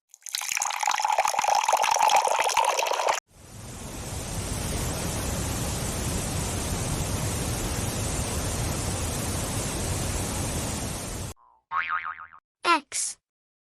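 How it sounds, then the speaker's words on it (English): Water rushes as a steady broadband wash for about eight seconds in a children's alphabet learning book, preceded by a tonal musical passage and followed by a few short springy boing effects. "W for water."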